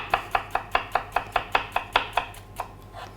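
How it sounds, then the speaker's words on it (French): A knife chops a shallot finely on a board in about fifteen quick, evenly spaced crisp strikes that thin out and slow near the end, close and clear with no talking. "Une échalote ciselée finement."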